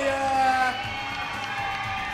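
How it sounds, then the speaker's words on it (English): Crowd at a WCFC 'Last Man Standing' fight event cheers fighter Lucas Montoya, a continuous roar of voices and whoops filling the space at steady loudness, with a whistle-like tone early on. "let's give him a round of applause to Lucas Montoya"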